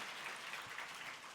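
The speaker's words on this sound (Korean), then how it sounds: "수고하신 우리 샤론 찬양 선교단을 위해서 우리 격려의 박수 한번 드리겠습니다" Faint, distant applause from a church congregation for a Korean praise mission team, a soft even wash of clapping heard as if from far back in a hall.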